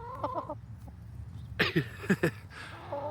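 Chickens cluck nearby in short bursts, a few quick calls early, then a louder cluster of sharp clucks, with a soft background hum.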